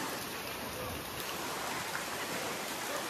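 Rain falls steadily at a hill station in strong wind, a constant even hiss of broadband noise with no distinct drops, moderately loud and unchanging throughout.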